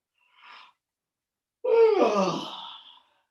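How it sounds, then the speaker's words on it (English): Two separate yawns, one after another during a guided standing movement exercise: first a short faint breathy burst, then a long loud drawn-out vocal yawn that slides downward and trails off. "You're going to turn your head to the left and yawn."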